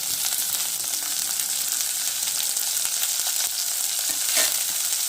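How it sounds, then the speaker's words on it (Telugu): Onion, dried red chili, curry leaves and crushed garlic fry in hot oil with a steady, dense sizzle and faint crackles from start to finish. "కొంచెం బ్రౌన్ వచ్చేంత వరకు వేయించుకుందాము"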